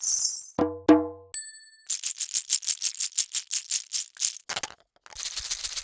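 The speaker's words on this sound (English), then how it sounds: "there are a whole bunch of organic percussions" A quick run of acoustic percussion hits recorded from real physical objects with a microphone: a ringing metallic ding, a bell-like tone, a rapid rattling shaker pattern, then scraping and rustling textures.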